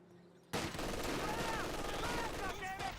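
Sustained MG42 machine gun fire in Company of Heroes 2 erupts suddenly and rattles on steadily amid other battle sounds, with a voice commenting over it.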